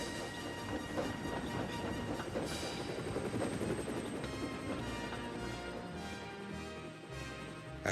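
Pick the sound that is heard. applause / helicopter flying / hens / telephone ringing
helicopter flying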